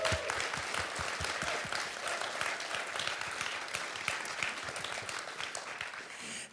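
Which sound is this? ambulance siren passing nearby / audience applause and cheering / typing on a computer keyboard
audience applause and cheering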